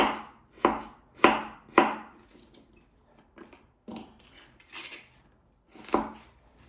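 A knife chops a frozen fish into cubes for a Yakut Indigirka salad, with sharp, distinct thuds on a board: three hard strikes in quick succession, then lighter, irregular cuts with pauses between them.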